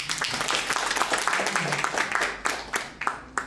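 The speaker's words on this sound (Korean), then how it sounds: "다시 한번 박수 부탁드립니다." A forum audience gives a round of applause, thinner clapping with distinct individual claps standing out, fading and becoming sparser toward the end.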